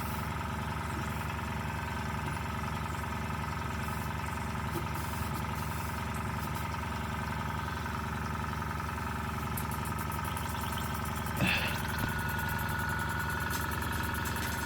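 A small model twin engine running on compressed air runs steadily with a fast, even chugging beat, quiet and close, with a brief clank partway through.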